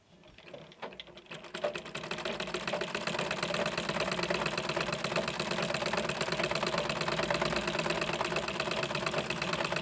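A sewing machine stitching steadily, its rapid mechanical clatter building up within the first seconds and then running loud and continuous, close up, with no voices.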